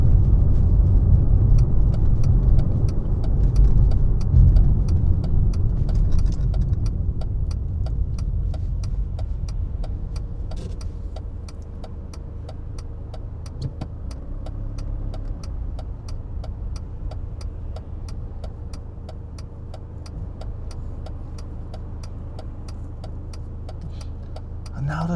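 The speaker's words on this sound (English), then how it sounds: "And now there's loads of cars." Cars driving past on a road during a UK autumn morning school and nursery drop-off, a loud low rumble of passing traffic early that fades to a steady idling hum with faint ticking, under occasional talk.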